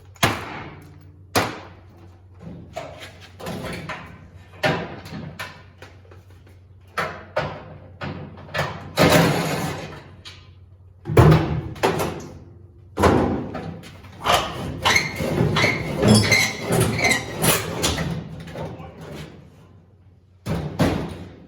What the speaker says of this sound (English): Getting this door off with one person.